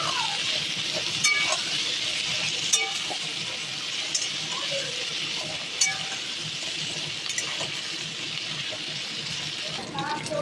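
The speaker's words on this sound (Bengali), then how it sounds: "সিম ও আলুগুলো ভাজতে ছেড়ে দেব" Broad beans and potatoes frying in oil with whole cumin seeds, a continuous loud sizzle with occasional clinks and stirring scrapes.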